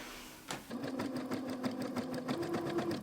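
A sewing machine hemming a summer dress, starting after a brief pause and then running in a steady rapid stitching rhythm close by, with no voices.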